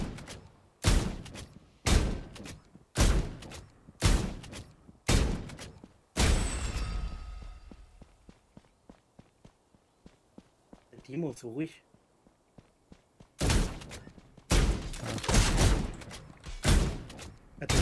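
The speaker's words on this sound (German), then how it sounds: "Also ich höre deine Schüsse bis auf meine Midlane, Junge." Gunfire rings out in the PC game FAULT: Elder Orb in loud, regularly spaced bursts of shots, with a break in the middle before the volleys resume. Players talk over the action.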